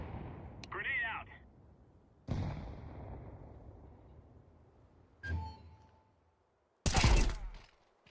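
Grenade blasts in Counter-Strike, several sharp booming bursts spaced over a few seconds, the last one loudest and close, with a player's voice talking between them.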